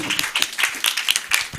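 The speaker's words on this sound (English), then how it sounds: "Another round of applause to Daktari." An audience at a children's services directorate ceremony gives brief applause, with scattered, uneven hand claps rising and falling for a moment.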